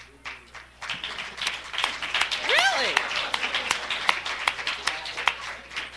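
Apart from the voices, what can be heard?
audience applauding attendees standing to be welcomed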